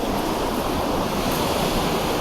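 A swollen river rushes below a mountain road on the way to Badrinath at night, a steady loud broadband roar of churning water that fills the whole clip with no pauses.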